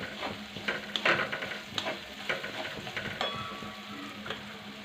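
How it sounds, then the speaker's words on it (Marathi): Turmeric stirred into hot oil for a bitter gourd dish, a steady close sizzle and frying hiss with repeated spoon scrapes against the pan. "हळद छान तेलामध्ये मिक्स करून घ्यायची आहे"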